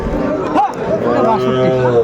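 A young Sahiwal bull calf, about three months old, moos in a livestock market setting, with a couple of short low calls standing out over steady background chatter and crowd noise.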